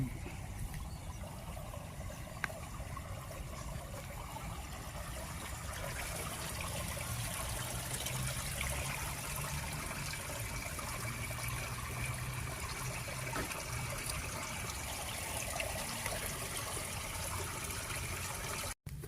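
Weak flow of irrigation water trickling into a rice field, a faint, steady low wash of running water continuing without a break.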